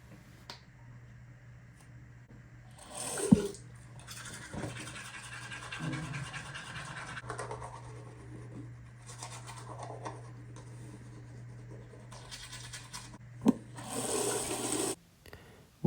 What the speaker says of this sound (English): Here's some ASMR of me brushing my teeth.